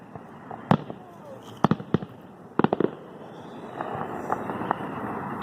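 Fourth of July fireworks go off in a scatter of sharp cracks and booms, several close together, with fainter pops and crackle later over a steady outdoor background.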